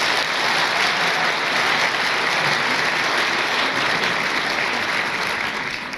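A large crowd applauds at a graduation ceremony for new doctors in Sétif, a dense, continuous wash of clapping that sounds almost like heavy rain, easing slightly at the very end.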